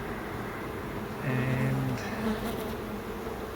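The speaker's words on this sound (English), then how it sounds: "brush some bees down" Bees hum steadily around a beehive being relocated on a roof, a close, dense buzzing that swells briefly in the middle. A voice speaks a single short word.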